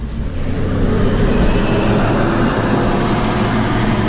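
Steady, moderately loud road rumble and tire noise from a quiet, smooth car driving along, continuous and even throughout with no talking.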